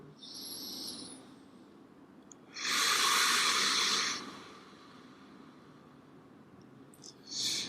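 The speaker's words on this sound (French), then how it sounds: "tu vas commencer à approfondir les respirations. Inspire, expire, profonde." Deep breathing during a yoga session: a soft airy inhale, then a louder sustained exhale lasting over a second, followed by the start of another breath, close and without talk.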